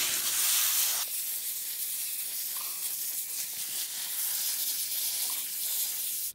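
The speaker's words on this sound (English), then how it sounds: "Now I'll rinse down the dirt." A garden hose sprays water to rinse dirt down in a yard, a steady broadband hiss running for several seconds before cutting off abruptly.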